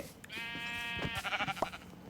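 A sheep gives one drawn-out bleat followed by shorter wavering calls, close and clear, with no talk over it.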